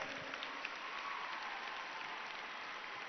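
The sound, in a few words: children applauding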